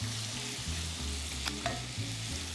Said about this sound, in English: We're just gonna let these saute for a little bit until they soften and get a little color.